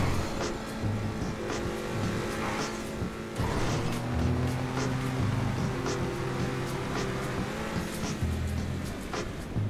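Race car engine in GTA V Online during a professional race through a tunnel, a steady loud drone whose pitch shifts up and down as it revs and changes gear, with brief impact noises.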